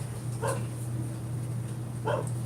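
A dog barks twice, a couple of short yips spaced apart, heard indoors over a steady low hum on a cold winter day during a live stream.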